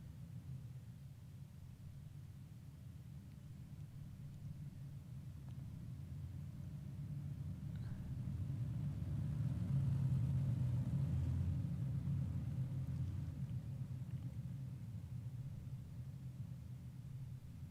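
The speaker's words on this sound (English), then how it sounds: "the pace car makes the hard left, waiting for the green" Low, steady engine rumble that swells slightly toward the middle then eases, like race cars idling and rolling along together, with no voices.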